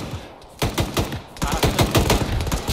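Sustained automatic gunfire from suppressing fire in the Joint Ops video game, loud rapid bursts of shots close by, rattling on almost without pause after a short quiet start.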